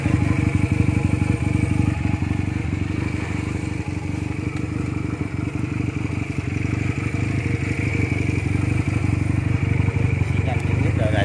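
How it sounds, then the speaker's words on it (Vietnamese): A Honda Rebel RB170cG Deluxe motorcycle, freshly washed with about 3000 km on it, idles steadily and close by with a low, even engine rumble for the whole stretch, no speech over it. "Xe đang nổ máy luôn."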